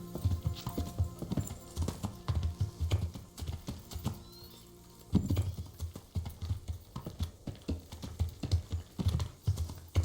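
Horse hooves clop in Kingdom Come: Deliverance, a close rhythmic run of hoofbeats in a steady trotting pattern, pausing briefly midway before resuming, with no talking.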